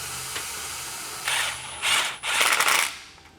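A ratchet with a 10mm socket tightens nuts on a 2018+ Jeep Wrangler JL during a lift and shock install, giving two or three short bursts of quick clicking, fairly close and alone.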